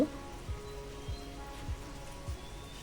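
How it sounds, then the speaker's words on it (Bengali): Rain falls outdoors in pre-dawn darkness, a faint, steady hiss of drops with a few soft, regularly spaced low thuds underneath. "পুরো অন্ধকার চারপাশটা, আর সাথে পড়ছে বৃষ্টি। আওয়াজ তোমরা শুনতেই পাচ্ছ।"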